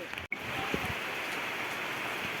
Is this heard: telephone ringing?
no